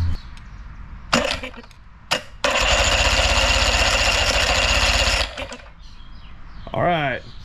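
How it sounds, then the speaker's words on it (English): An outboard motor's starter, powered by bridging the terminal posts with a screwdriver, cranks in a loud, steady mechanical whir for about three seconds, set between a few sharp clicks and knocks. "let me just make sure that the starter works and we're getting power and that it's gonna spin for me"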